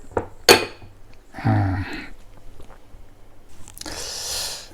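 A plastic lid is pressed shut on a cup of Mama tom yum minced pork instant noodles after water is added, giving several close, sharp plastic clicks and rustling crinkles separated by brief pauses.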